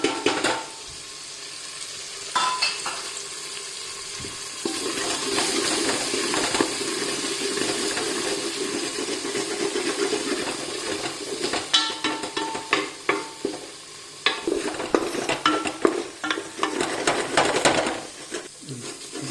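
Chironji and melon seed paste frying and being stirred in oil for haleem, a steady close sizzle with scraping spoon strokes and clatter, growing busier toward the end.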